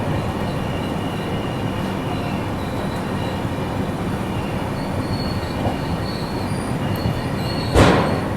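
An express train arrives at Ahmednagar railway station with a steady rolling rumble and wheel noise, then a sharp, loud squeal near the end as it brakes.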